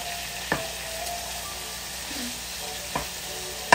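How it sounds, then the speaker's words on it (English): Onions sizzle steadily in a pan for Filipino spaghetti, a soft continuous frying hiss broken by three sharp utensil clinks against the pan. "saute the onions"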